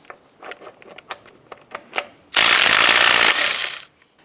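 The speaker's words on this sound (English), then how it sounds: "Using a 19mm socket, we're going to go ahead and remove the lug nuts." Lug nuts coming off a 2004–2012 Chevy Colorado front wheel with a 19mm socket: several quick light taps and clicks, then a loud sustained burst of an impact wrench spinning a nut loose, close by and alone.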